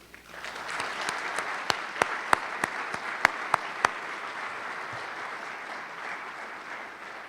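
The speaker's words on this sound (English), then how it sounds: "join me in acknowledging them with a round of applause" A large audience at a medical school clinician investiture ceremony gives a sustained round of applause in a hall, dense clapping swelling quickly and holding steady, with a few sharp individual claps standing out near the front.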